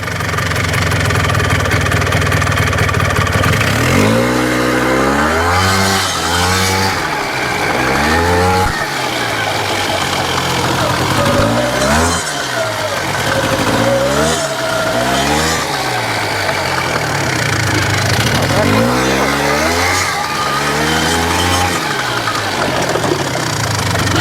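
A Polaris Sportsman ATV with a worn, clunking transmission, driven with a loud nearby engine that repeatedly revs up and drops back, mixed with rough knocking and clunks.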